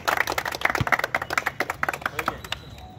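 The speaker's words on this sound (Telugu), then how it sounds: "ఏంటి సార్ కమాన్ క్లాప్స్." An audience at a local gathering claps in a quick, uneven burst of close handclaps, thinning out and fading over a few seconds.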